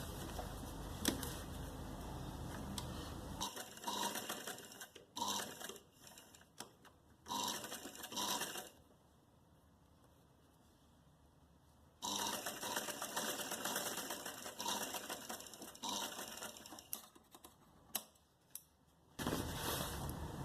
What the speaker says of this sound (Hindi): ये देखिए इस तरीके से, और सिलाई लगा लेंगे यहाँ पे।